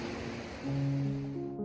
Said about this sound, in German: Der Bachlauf der großen Bode ist von kleinen Wasserfällen und Fallstufen geprägt, darunter dem oberen Bodefall.